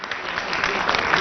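Audience applause welcoming a guest, Rajya Sabha MP Randeep Surjewala, at a televised interview event, brisk crowd clapping that swells slightly over a second, with no talk over it.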